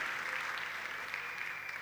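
An audience at a Turkish folk dance contest applauds with a dense, even wash of clapping that holds steady throughout, heard from within the crowd.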